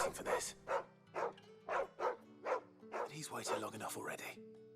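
A dog in the video game Final Fantasy XVI barks and whimpers in a string of about eight short, evenly spaced yelps, fairly close, over a low steady background tone.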